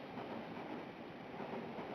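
A train rolls steadily along rails in the video game Standstill Girl, giving a continuous dense rumble and hiss with no clear gaps or voices.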